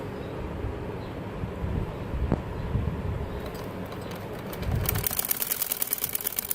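A sewing machine stitches a kameez seam, starting quietly and then running in a fast, even, rapid-fire rhythm that gets louder through the second half.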